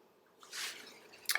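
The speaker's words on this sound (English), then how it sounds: "Just squeeze the water through the wool as I press my hands on it" A soft wet squish as wool soaked with water is pressed down flat by hand over bubble wrap, followed by a faint drip-like splash at the end; quiet and close. Alpaca wool on silk, nuno felting.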